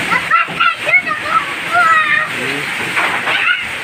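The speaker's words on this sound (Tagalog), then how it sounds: "Lakas ng ulan talaga." Heavy rain with strong wind pours with a steady splashing, sloshing roar, leaking inside through a house wall, with people talking over it throughout.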